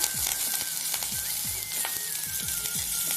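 Amla, curry leaves and pirandai with ginger sizzle steadily in hot oil in a pan, with soft scraping stir strokes recurring through the frying.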